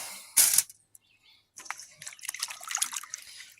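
Chicory roots washed in water, with a sharp splash followed by a pause and then a run of small drips, sloshes and knocks up close, and no talk.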